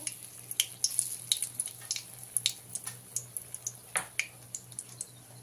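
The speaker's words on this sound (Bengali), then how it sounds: "তেলটা গরম হয়ে গেলেই তাতে দিয়ে দিতে হবে ফোড়নে শুকনো লঙ্কা 4 পিস, 2টো তেজপাতা" Dry red chillies and bay leaves crackle in hot oil for a tempering, giving sparse, quiet pops and sputters that tick along irregularly over a faint background hum.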